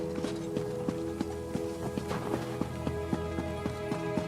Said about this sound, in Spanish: Aquí va alguien a caballo